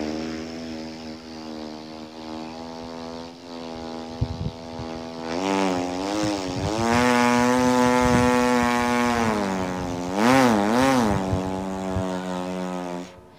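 A voice imitates a motorcycle engine, a steady buzzing drone that starts at idle, then revs up and down in pitch with rising and falling surges, loud and close, continuous throughout.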